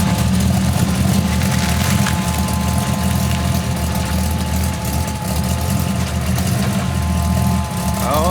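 A 1940 Ford engine runs steadily while the car is tried in reverse in a driveway, a loud, close, low idling rumble with a constant hum and no voices.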